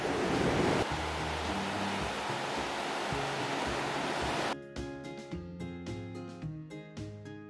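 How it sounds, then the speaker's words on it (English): Ocean waves crash against rocks at Survival Beach in Arecibo, Puerto Rico, a loud, sustained roar of surf that eases midway into softer, churning water with wind noise. "See the rocks being hit by the waves."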